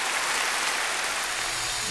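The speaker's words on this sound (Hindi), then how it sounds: "रसीली के जोरदार तालियां" Steady applause from a studio audience greeting contestant Rasili on a Bhojpuri TV game show, a dense, even wash of clapping throughout with no voices.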